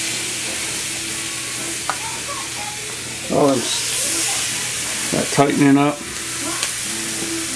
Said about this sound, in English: we got our pan nice and hot here. So we want to get a real good sizzle